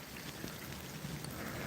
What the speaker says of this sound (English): It's hard to see that clear bobber out there when it's raining.